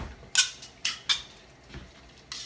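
Dry blackening seasoning of salt and paprika being stirred in a bowl for shrimp Alfredo primavera, giving a few sharp separate clinks and scrapes of utensil on dish with quiet pauses between.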